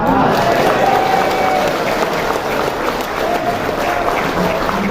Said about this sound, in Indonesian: Tepuk tangan sekali lagi sama yang bantu bikinin.